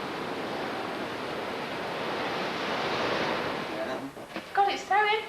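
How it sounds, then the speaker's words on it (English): Ocean waves crash and roll onto the shore in a steady, loud broadband roar, with wind buffeting the microphone, before voices start talking over the surf near the end. "the waves are really crashing over here"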